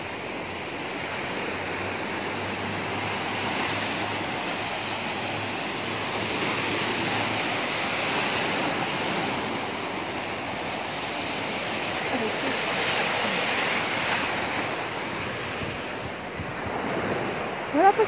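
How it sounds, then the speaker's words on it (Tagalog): Sea waves wash steadily onto the shore in a continuous broad roar, with wind buffeting the microphone throughout and no clear breaks between the surges. "Oh, ang ganda ng tunog ng ano na dagat."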